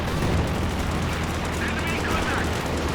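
Tank cannon and small-arms fire crackle through a World War II strategy game battle, dense, continuous and loud, with a Panzer IV, a Stuart and a command tank engaged; talk runs underneath throughout.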